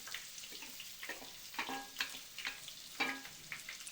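Onions fry in oil with mustard seeds and curry leaves for a village-kitchen greens stir-fry, giving soft crackling sizzles in short bursts as the pan is stirred, fairly faint, with no speech.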